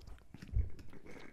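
Close, wet chewing and slurping of food, a brief burst of mouth noises with one louder crunchy bite in the middle.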